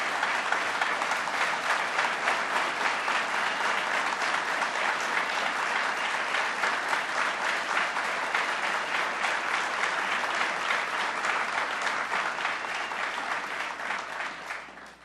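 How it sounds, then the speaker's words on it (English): A large audience at a ceremony honoring first responders from the 2022 Buffalo blizzard claps steadily and loudly for about fifteen seconds before the applause tapers off at the end. "Let's give them a round of applause."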